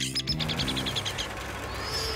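Baby birds in a cartoon give a quick series of high, rhythmic chirps, a short bright run of tweets that fades as background sound continues.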